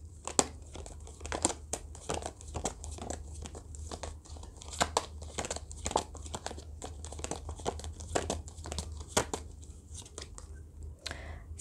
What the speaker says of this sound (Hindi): पहले हम सारे कार्ड्स निकालते फिर मैं आपको बताती हूँ।